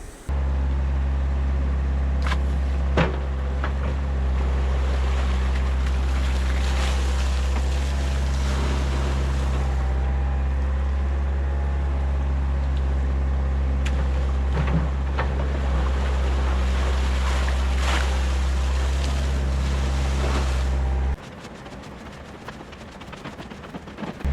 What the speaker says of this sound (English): First though, I'm going to pump the water out with the excavator.